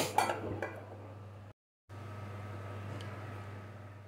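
A metal lid clanks onto a pot of taro and elephant apple sour curry with puti fish once the stove is off, a short clatter near the start followed by quiet room hum and a brief silence.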